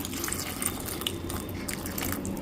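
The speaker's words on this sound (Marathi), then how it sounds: "आणि आता ह्याच्यामध्ये ह्या मिरच्या पुरतील इतकं गरम पाणी घालायचं आहे" Hot water poured over chillies soaking for a Goan fish curry, a steady close splashing pour and trickle of liquid running for the whole stretch with no talk.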